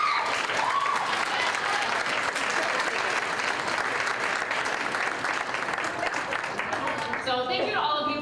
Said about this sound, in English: So if you guys could give your parents a round of applause.